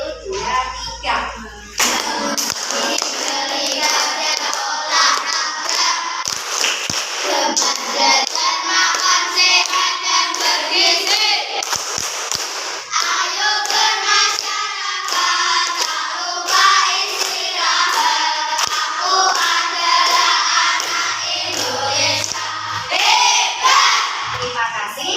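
A group of children sings a song together in a classroom while clapping their hands in rhythm, loud and close, with shouting voices and steady rhythmic claps running throughout.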